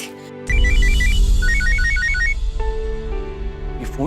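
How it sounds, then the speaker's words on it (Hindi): A mobile phone ringtone rings unanswered in a Hindi TV drama, a bright repeating melodic pattern starting abruptly, then shifting to longer sustained tones over background music, loud and close. "ये फोन क्यों नहीं उठा रही?"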